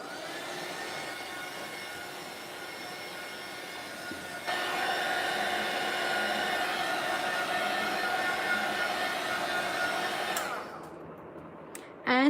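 Art-journal page with gesso and texture paste being dried by a handheld dryer, a steady whirring blow that steps up louder partway through, runs continuously, then cuts off near the end with a brief clunk.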